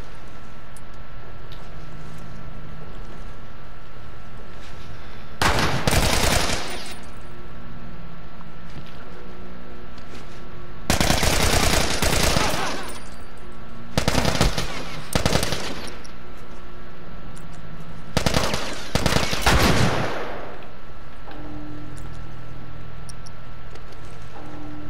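Gunfire in The Last of Us comes in four sharp, loud bursts spread across a quiet stretch of game ambience, each burst a short rapid cluster of shots.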